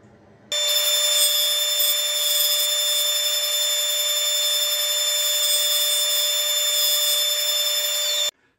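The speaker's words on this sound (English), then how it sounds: "I'll take the chamfer bit and I'll actually put it into a router and route those edges as well." A router fitted with a chamfer bit spins up to a loud, steady high-pitched whine, running continuously for about eight seconds while chamfering the wooden edges of an arbor being repaired, then stops abruptly.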